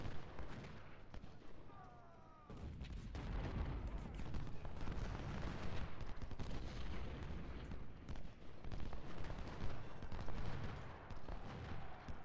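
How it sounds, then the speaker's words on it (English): Continuous musket and artillery fire from the Civil War strategy video game Ultimate General: Civil War, a dense, rolling battle din of overlapping shots and booms that stays loud and steady throughout, with no talking. "And now I've got Bass firing into Hood's flank"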